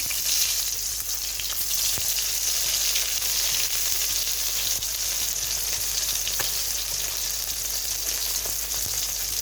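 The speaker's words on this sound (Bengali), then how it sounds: "এখন একটু ভেজে নিচ্ছি সেটা আমরা একটু মরিচ তেল দিয়ে ভাজবো তাই একটু কড়াকড়ি ভাজতেছি" Bata fish rubbed with turmeric and salt fries in hot oil, giving a steady, close, continuous sizzle with faint bubbling and occasional small pops, no voices.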